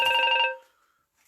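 A telephone rings once with a bright electronic trill during a lockdown quiz game, then fades into brief silence before another sound begins.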